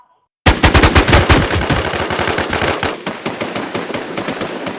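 Rapid automatic gunfire from the video game Infestation, loud and dense bursts of fast repeated shots filling the whole stretch without pause, no voices over it.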